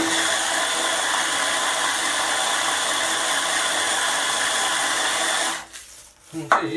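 A Hurricane Spin Scrubber powered brush whirs with a steady, even motor hum while scrubbing, then cuts off abruptly near the end, leaving a few faint handling knocks.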